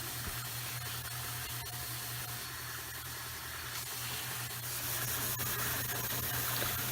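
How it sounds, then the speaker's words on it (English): A belt sander fitted with a coarse 60 grit belt grinds across the back of a wooden moulding, a quiet steady hissing rasp over a low motor hum that continues without a break. "now I'm going to clean up the back side with the 60 grit belt"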